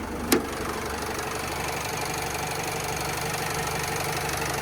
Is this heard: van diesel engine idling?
yes